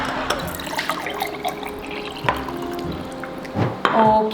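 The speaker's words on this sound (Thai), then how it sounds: "จะเทน้ำเนี่ยลงไปในแก้ว" Water poured from a container into a drinking glass indoors, a steady liquid trickle with a rising gurgle near the end, heard close alongside background noise and a brief spoken word.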